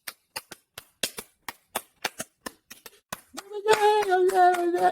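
Hands clap in a steady rhythm, sharp close claps evenly spaced for about three seconds before a singing voice enters and continues over the last claps.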